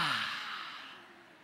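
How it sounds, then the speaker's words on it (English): An audience draws a deep breath in through the nose together, a single soft, airy inhale that fades out steadily over about a second and a half. "deep breath in through the nose."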